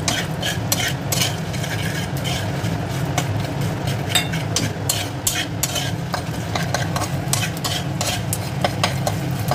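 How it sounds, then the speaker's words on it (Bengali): Vada pav filling stirred and fried in a pan, a dense continuous sizzle with rapid scraping and clinking of the spatula against the metal, close and steady with no talking. "এইভাবে নেড়ে চেড়ে একটু হালকা ব্রাউন করে ভেজে নেব।"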